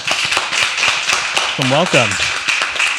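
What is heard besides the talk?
audience applause welcoming first founder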